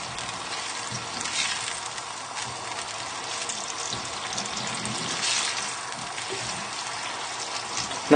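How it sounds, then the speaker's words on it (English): A chorizo and tomato chicken mixture is stirred in a frying pan, producing a steady, dense sizzle and wet bubbling hiss throughout, with soft scraping as it is moved around, no voices. "So just moving everything around the pan,"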